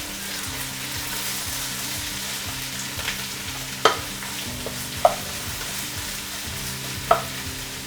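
Onions sautéing in a pan for Kerala chicken curry, a steady close sizzle with three sharp clinks of a utensil against the pan as they are stirred, no talking.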